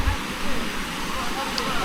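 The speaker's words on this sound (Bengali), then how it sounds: "ছোট্ট ঝর্ণার আওয়াজ শুনতে পাচ্ছি" A small waterfall in hilly country near the Dead Sea sends out a continuous rushing wash of water. It sounds steady and moderately loud, with light wind mixed in.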